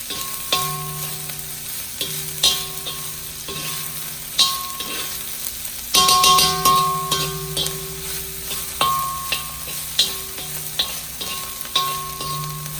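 Rice stir-fried in a hot pan with Vietnamese pork sausage (cha lua) and Chinese sausage (lap xuong): a steady sizzle under rhythmic metal scraping and clanging strokes roughly every two seconds, close and fairly loud, with no talking.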